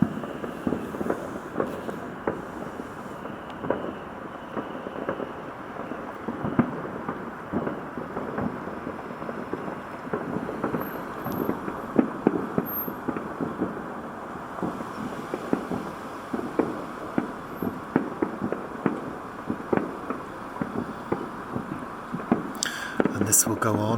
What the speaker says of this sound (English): And you can hear the amount of fireworks going off.